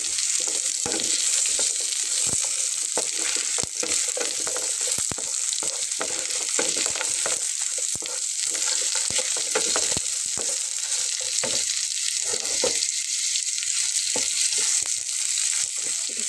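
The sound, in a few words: onions and ginger frying in a pan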